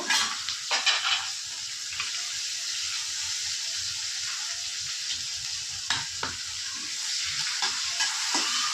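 Chopped onion dropped into hot oil with a bay leaf and nigella seeds, giving a dense, continuous hiss of frying with occasional stirring scrapes, close and steady throughout, no voices.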